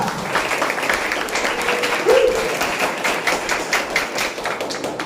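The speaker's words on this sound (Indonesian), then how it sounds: "berikan tepuk tangan untuk paslon nomor 2 MPK" An audience at a school candidate debate applauds with steady, fairly dense clapping that continues throughout at moderate loudness in a reverberant room.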